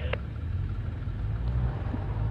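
A Sidewinder off-road vehicle at a rocky trail park turns over and rumbles into a steady low idle, with a brief click at the start and no talking.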